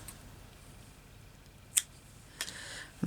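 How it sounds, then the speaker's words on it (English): Scissors snip through wool thread in a crazy patchwork wool bag, two quick isolated crisp cuts standing out against a quiet room background. "Now I can cut this off"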